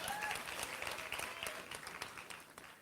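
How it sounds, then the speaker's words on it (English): Graduation audience applauding the Class of 2021 ceremony, a steady wash of clapping with faint voices and cheers mixed in, moderately distant and fading slightly toward the end. "So give yourselves a round of applause,"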